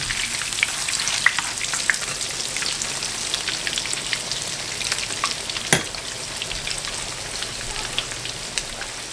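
Panko-crusted pork sizzles steadily in a hot pan, a dense continuous crackle with scattered sharper pops and one louder spatter midway, close and alone.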